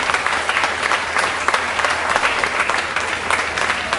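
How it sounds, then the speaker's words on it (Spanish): An audience at an ecumenical debate between pastors and a Catholic priest claps for a participant, a loud, lively burst of many hands with uneven flurries that continues steadily for several seconds. "un aplauso pues para el hermano quiere exponiendo"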